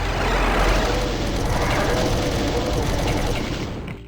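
Plasma rifle in Doom 2 firing continuously at revenants, a dense rapid stream of energy bursts with heavy low rumble, loud and unbroken before tapering off at the end.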